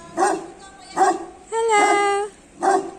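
A close puppy barks: three short, sharp barks with a longer drawn-out yelping whine between the second and third.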